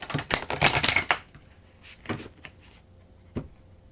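A tarot deck is shuffled in quick riffling bursts, a dense flurry of card slaps followed by a few softer isolated taps and shuffles.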